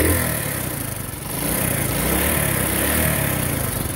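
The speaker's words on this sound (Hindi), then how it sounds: "ये मोटरसाइकिल हमारा स्टार्ट हो गया है। ये देखे जैसे इसको रेस देते हैं," Motorcycle engine revved after starting, the bike suffering an engine heating problem with loud noise from the cylinder head; a steady, close, loud mechanical drone with a slight dip then rise in intensity, no voices.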